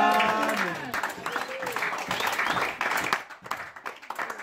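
A church congregation applauding and cheering to praise the Lord during a sermon, loud mixed clapping and voices that fade into scattered claps toward the end, with talk mixed in.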